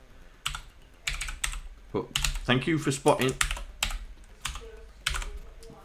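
Clattery bursts of typing on a computer keyboard while coding for a Commodore 64, close and uneven, with someone talking between and over the keystrokes.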